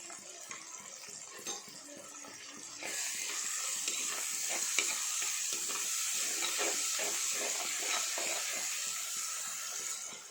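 Sankara fish curry ingredients sauté in a hot pan with a steady, close sizzle and hiss that swells louder after a few seconds, overlaid with scattered scraping stirs.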